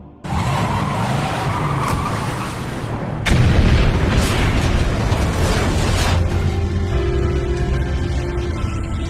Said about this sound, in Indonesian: Kemudian dia membiarkan mobil itu melaju dan menabrak laboratorium dan menyebabkannya meledak.